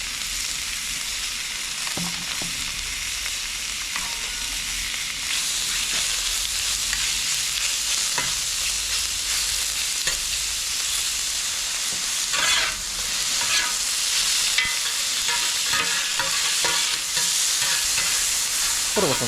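Pork and chicken fillet sizzling in a pan for fajitas, a loud sustained fry that swells partway through, dotted with occasional scrapes and stirring clatter.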